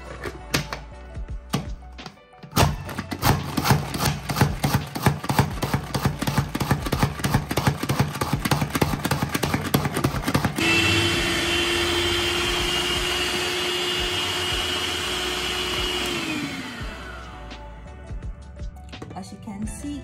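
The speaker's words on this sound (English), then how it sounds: "I'll be using this food processor to chop it into tiny bits." A food processor chops scotch bonnet peppers and red onions for Nigerian akara. It starts with a run of rapid, loud pulsing bursts, then settles into a continuous motor whir that winds down and slows to a stop near the end.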